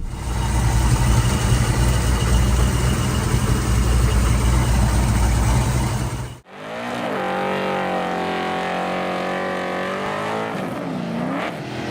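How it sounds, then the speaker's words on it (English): A deep, loud 351 cubic inch Cleveland V8 engine rumbles steadily for several seconds, then cuts out and gives way to a smoother, higher engine drone with rising and falling pitch. "Under the hood, you'd find a big 351 cubic inch V8 engine"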